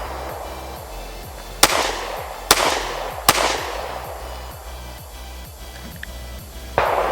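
Four sharp pistol shots from a Springfield Hellcat crack at irregular spacing over several seconds, loud and close, with a steady low hum in the background and no talk.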